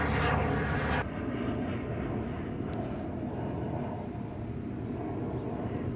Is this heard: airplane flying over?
yes